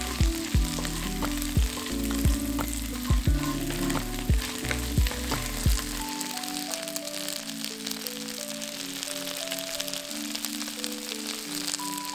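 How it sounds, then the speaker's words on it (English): Prawn heads sauté in a pan for Penang Hokkien prawn mee, giving a loud, close sizzle with repeated sharp clanks of stirring in the first half before settling into a softer, continuous fry. "Sauteing the prawn heads really brings out a ton of flavor"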